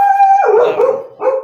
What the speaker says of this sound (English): Now my dog's going crazy.